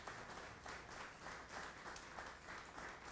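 Audience applause at a live jazz quintet concert, sustained dense clapping with gentle swells, faint and somewhat distant, with no music playing underneath.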